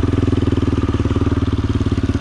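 The engine of a homemade quad bike running up close and loud, with a fast, steady thumping pulse and no talk over it.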